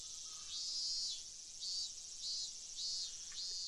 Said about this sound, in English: I stayed there alone, my body bathed in the lively voices of the cicadas.